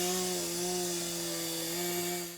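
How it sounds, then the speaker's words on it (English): An electric chainsaw runs with a steady, loud, buzzing drone that holds an even pitch throughout, heard up close with no talking. "this might be an electric chainsaw, but it can still make a classic chainsaw sound"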